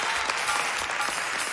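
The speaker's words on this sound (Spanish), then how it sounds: "Fuerte aplauso para la gran campeona" Studio audience applause on a Spanish television show for the champion of a cookie-eating challenge, a continuous dense roar of clapping with no gaps.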